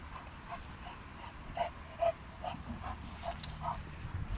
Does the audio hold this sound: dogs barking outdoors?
yes